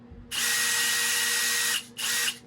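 A DeWalt DCD703 3/8-inch cordless drill whirs at a steady high speed on speed setting 2 for about a second and a half, stops briefly, then spins up again in a shorter burst.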